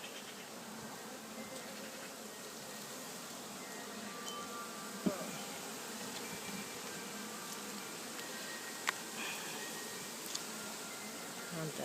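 Bees buzz around an open top bar beehive in a continuous, dense droning hum, with a few faint knocks and rustles from working the hive.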